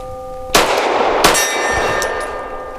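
Pistol rounds from a Rock Island Armory STK 100 strike steel targets, two sharp ringing clangs about a second apart, each followed by a lingering metallic ring, loud and close.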